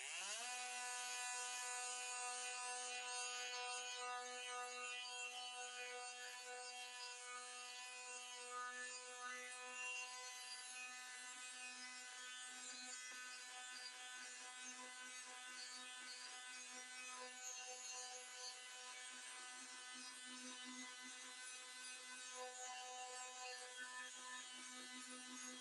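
Seyvum brushless oscillating tool sanding wood with a 60-grit pad, a steady high-pitched motor whine with a rough buzzing rasp against the wood, continuous and loud throughout.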